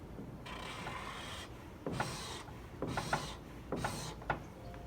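A chisel-tip marker dragged across paper in several separate strokes, each a soft dry rasp lasting about half a second to a second, close and quiet with short pauses between them.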